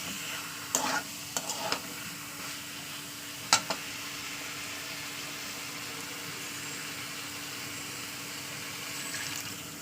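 Spice paste for a fish curry with peas and potato being fried and stirred in a pan, a soft steady sizzle with a few sharp spoon clinks early on, fairly quiet and close.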